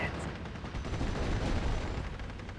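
Gunfire in the World War II strategy game Steel Division: Normandy 44, set at Pegasus Bridge, forms a dense, continuous wash of shots and distant battle noise.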